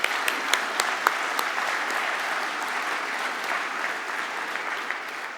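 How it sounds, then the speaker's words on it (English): A round of applause at the Science New Zealand Awards for the award finalists, even and sustained from a sizeable audience, with a few sharper claps popping out near the start before it slowly tapers. "Please give our finalists a big round of applause."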